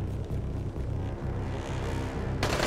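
Rumbling bursts of gunfire and explosions from the zombie survival video game Dying Light, repeated low booms in a steady rhythm at moderate level, ending with a sharper, brighter burst.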